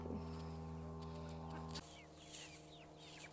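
Chickens cluck and chatter in a goat pen on a smallholding shared with ducks, faint and close-ish, over a steady low hum from the surroundings, with no one speaking.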